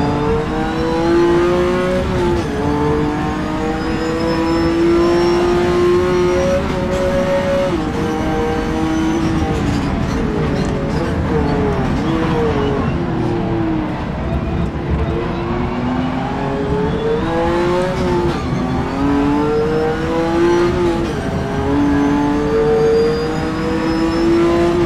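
Porsche 917K race car engine lapping Sebring in rFactor 2, a loud continuous engine roar that climbs and drops through repeated revving, upshifts and downshifts with brief tire squeal, no talk.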